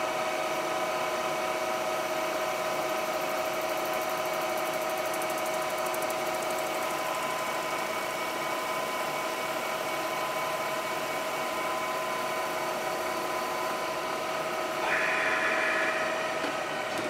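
A manual lathe takes a 65-thousandths cut on a Nylatron bushing for a dragline crane track system, giving a steady machine hum with tonal whine and vibration throughout, slightly louder near the end, with no talk.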